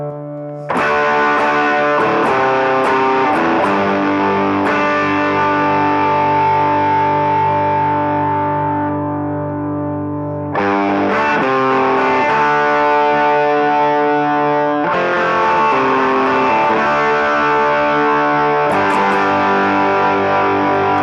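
Electric guitar chords through a blended Roland JC120 and Matchless DC30 ring out with a full, slightly overdriven tone, strummed in several sustained hits that decay between new attacks, no voices.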